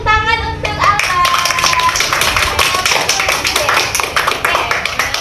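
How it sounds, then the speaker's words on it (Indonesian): A classroom of children applauds a student after a group discussion about sports like futsal, dense rapid clapping sustained throughout, loud and close, with a few brief high voices at the start. "tepuk tangan untuk Albert"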